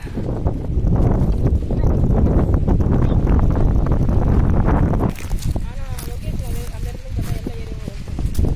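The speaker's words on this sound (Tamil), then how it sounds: "காற்று நல்லா சில்லுன்னு அடிக்குது" Steady rushing wind buffets the microphone loudly for several seconds at Bell Rock in Ranipet, Tamil Nadu, then eases as faint voices and chirpy sounds come through.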